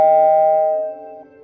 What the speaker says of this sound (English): I was awakened by the sudden ring of the doorbell.